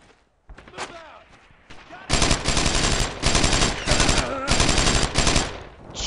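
Soldiers in Brothers in Arms fire World War II weapons in long, loud automatic bursts and overlapping shots, with brief shouted voices before the shooting swells into sustained rattling fire.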